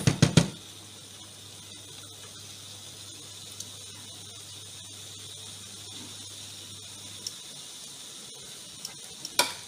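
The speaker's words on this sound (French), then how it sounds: "vous allez brasser jusqu'à ce que ça se sèche complètement" A homemade bouillon mixture heats in a pan while someone stirs it with a wooden spatula, giving a faint, steady sizzle over a low hum, with a few sharp scraping clicks at the start and end.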